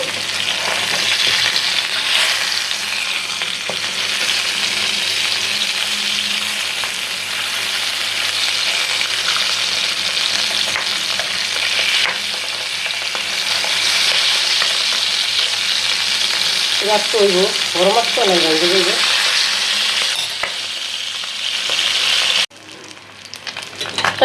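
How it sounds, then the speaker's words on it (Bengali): Pabda fish fry in hot oil in a pan with a steady, loud sizzle that runs throughout. A voice talks briefly partway through, and near the end the sizzle drops away abruptly. "দেখেন কি সুন্দর লাল লাল করে ভাজছি।"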